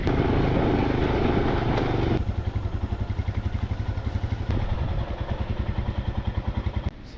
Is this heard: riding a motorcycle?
yes